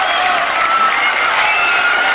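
A tennis crowd at the French Open in Paris, during the 1993 ladies' final, cheers and applauds in a continuous, loud, dense roar of clapping and shouts that holds steady throughout.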